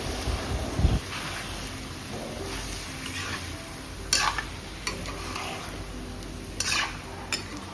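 Jungle chicken being stir-fried in a pan at a work-site kitchen, with a steady low sizzle and occasional scrapes and clinks of a utensil against the pan.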